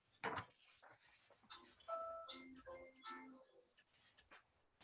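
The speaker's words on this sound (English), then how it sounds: "That was my phone." Mobile phone ringtone plays a short, faint melodic chime of several bright tones in a row, like a doorbell ding-dong, heard alone in a quiet room.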